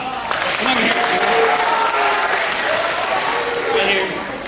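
Sustained audience applause fills the room, steady and fairly loud throughout, with a host talking over it.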